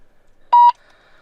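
Two short electronic beeps sound in quick succession as a Midland walkie-talkie switches on, followed by a faint hiss of static, close and alone.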